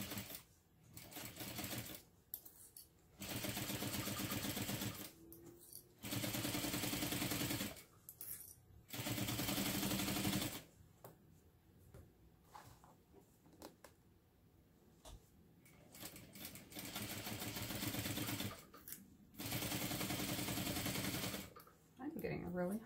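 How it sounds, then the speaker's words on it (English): A sewing machine stitches a 3/8 inch seam in several sustained bursts of fast, even mechanical whirring, close and loud, broken by short quiet pauses where a voice speaks. "I'm sewing this together the entire length for this first stitch at a 3/8 inch seam allowance"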